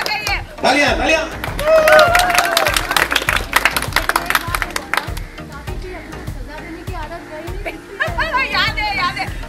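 Applause and cheering from a crowd on the set of an Indian TV serial's wedding shoot, rhythmic clapping mixed with loud speech and chatter from people nearby.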